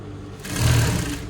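A sewing machine runs a short seam in one brief, close whirring burst that swells and fades within about a second.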